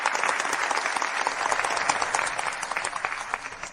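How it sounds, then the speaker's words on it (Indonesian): Wedding guests applaud steadily as the groom steps onto the stage, a dense, even wash of clapping from a crowd that holds at a constant level throughout. "tepuk tangan meriah."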